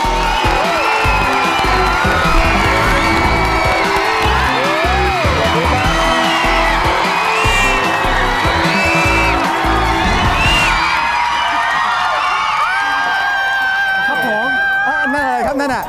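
Studio audience fans shriek and cheer loudly for a singer on a Thai TV game show, a dense sustained wall of high screams and whoops that continues throughout, thinning slightly near the end.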